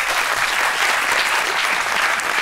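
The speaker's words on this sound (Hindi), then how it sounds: "वेरी गुड, तालियां" A studio audience claps steadily and loudly throughout, a dense, even wash of applause for a guest on a Pakistani talk show, with no speech over it.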